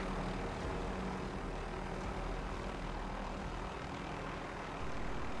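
A helicopter's steady engine drone with a faint rotor chop holds at an even, loud level throughout, game audio from Call of Duty: Modern Warfare, with no talking.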